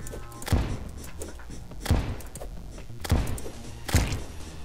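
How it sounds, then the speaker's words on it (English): Grenades launched and detonating in the video game Terraria: four heavy, evenly spaced thumps about a second apart, each a loud low burst with a brief crackling tail over a steady game background. "We're going to launch all of our grenades."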